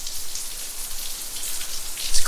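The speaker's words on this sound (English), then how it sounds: "Look at this rain." Steady rain falling outdoors around a garage where a Honda CRX is being worked on, a dense even patter of drops with no talk, close and moderately loud throughout.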